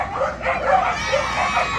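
A puppy at a SuperDogs show at a fall fair gives short yips and whimpering barks, close and fairly loud, in quick uneven bursts across under two seconds.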